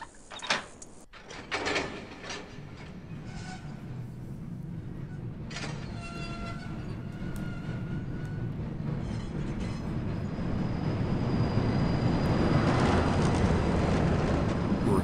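Mine cart rolling along a track in the game Riven, starting with clanking mechanism hits, then a steady rumbling roll that grows gradually louder and faster.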